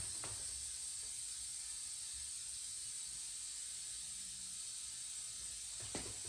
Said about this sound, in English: We're gonna put some air in this thing.